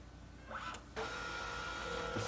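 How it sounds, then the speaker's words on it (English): Scanner-printer mechanism running at close range, a mechanical whir with a pitch sweep, a brief gap, then a steady motor tone as printing begins. "any scanner will be a bit loud when scanning, and you'll listen right now as it prints"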